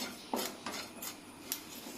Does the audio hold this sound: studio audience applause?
no